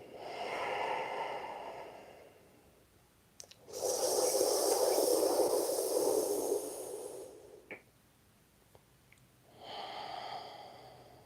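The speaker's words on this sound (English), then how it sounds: "Exhale through the nose." Slow breaths through the nose during a gentle seated yoga breathing exercise, with soft airy exhales and inhales separated by quiet pauses, close and moderately loud with no talking.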